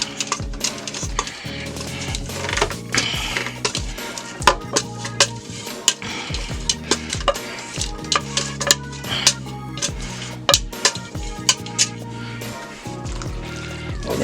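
Pasta being stirred into a creamy Cajun sauce in a pan, with a utensil scraping and clinking against the pan in repeated, irregular strokes over a steady sizzle, close and fairly loud, with no talking.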